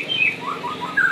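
A male canary of the F1 SF line chirps in short, bright tweets and trills, close and clear, repeating rapidly over a quiet background with no voices.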